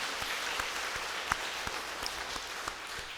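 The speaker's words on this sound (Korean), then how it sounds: "우리 할렐루야 찬양대 우리 큰 박수로 한번 격려하겠습니다." A church congregation applauds its choir during a Sunday worship service, a steady wash of many hands clapping at moderate distance, with a few sharper individual claps standing out over roughly three seconds.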